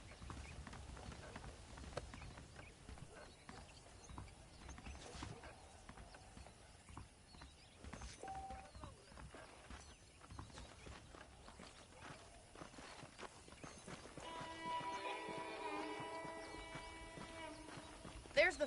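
Horse hooves clip-clop at a steady walking pace in the video game Red Dead Redemption, faint and rhythmic beneath intermittent character dialogue and ambient game sounds, with music rising toward the end.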